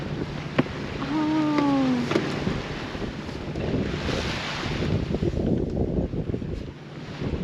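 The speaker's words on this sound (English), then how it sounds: "we have a little bit of wind at the moment, which is great" Wind blowing steadily across a microphone aboard a sailboat heading up the New South Wales coast offshore, a continuous rushing roar with surf-like swells, and a brief tonal whistle rising early on.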